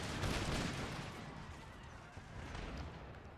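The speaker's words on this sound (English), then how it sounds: "Oh shit, they're artillery." Artillery and musket fire in a battle in the video game Empire Total War form a continuous distant rumble of overlapping booms and crackling volleys, fairly faint, swelling slightly at the start and again near the end.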